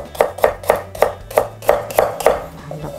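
Celery being cut into thin strips with a knife on a cutting board, about eight sharp, evenly spaced chops in a steady rhythm, close and clear with no talking.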